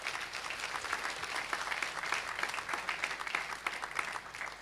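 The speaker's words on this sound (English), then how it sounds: "I think the Institute team deserves another round of applause." An audience at a National Educare Conference applauds the Institute team, a dense, even round of clapping that carries steadily throughout at moderate level.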